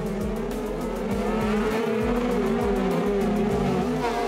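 Cross car racing cars in the FIA European Cross Car Championship speed around the Bauska track, engines loud and close with rhythmic rising revs and gear changes, no talk.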